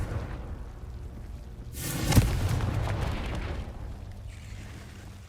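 A Confringo fire spell bursts in Hogwarts Legacy, a sudden whooshing blast with a deep thump at its peak, then a rumbling tail that slowly fades under a quiet game ambience.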